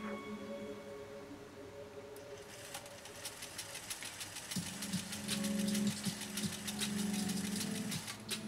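A sewing machine pieces two layers of 100% cotton, starting after a couple of seconds with a steady, fast mechanical stitching whir that grows louder midway, running continuously at close range with no talk.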